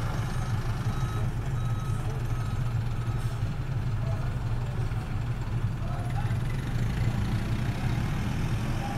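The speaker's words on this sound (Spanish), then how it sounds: "La micro va entrando al terminal de la ciudad." A rural bus pulling into the La Serena city terminal in Chile, its engine rumbling and idling steadily beneath repeated reversing beeps and general terminal commotion, loud and continuous.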